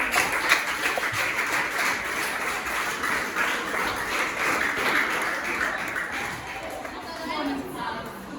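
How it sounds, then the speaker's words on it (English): Applause from an audience at a secondary school textbook distribution event, a broad steady wash of clapping with crowd chatter and speech mixed in, lasting throughout. "A round of applause."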